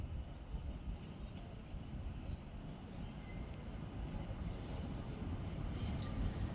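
Class 331 electric multiple unit 331018 rolling through Manchester Piccadilly station, a steady low rumble of train wheels and motors with faint squeals, continuous and fairly distant throughout.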